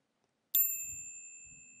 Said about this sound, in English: we're going to change the rate of the bell.